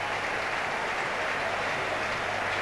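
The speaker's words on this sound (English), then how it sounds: "And listen to the crowd." A vast Swiss stadium crowd roars and applauds a home victory after a women's track race, a steady, dense wall of cheering and clapping that holds throughout.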